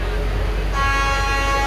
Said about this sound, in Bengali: আমরা হর্ন শুনতে পাচ্ছি